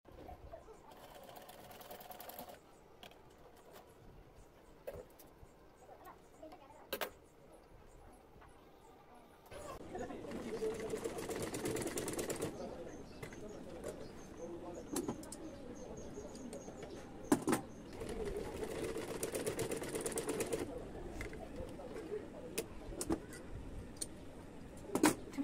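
A sewing machine stitches pintucks at three-inch spacing across palazzo pants, running in several loud whirring bursts separated by quieter pauses, with faint birds cooing in the background.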